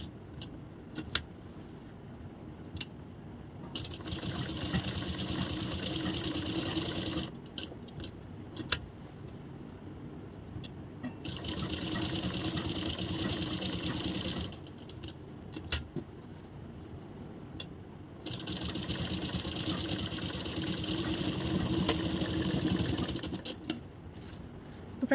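An electric sewing machine stitches the neckline of a blouse in three runs of steady, fairly quiet whirring, with short pauses between them.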